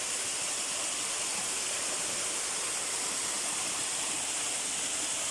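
Mountain spring water pours and rushes in a steady, broadband hiss, continuous and unchanging, fairly close with no other sounds.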